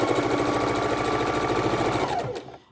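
A sewing machine runs steadily through the border seams of a heavy scrap quilt, a close, even rapid stitching rhythm that slows and stops near the end.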